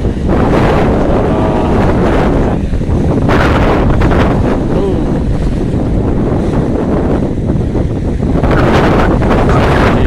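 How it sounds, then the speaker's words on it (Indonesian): Strong wind buffets the microphone at Bakauheni port on the Sunda Strait, with high waves surging beneath a steady, loud roar that swells and eases throughout, no voices. "Pelabuhan Bakauheni ini anginnya kencang, gelombangnya tinggi ya teman-teman."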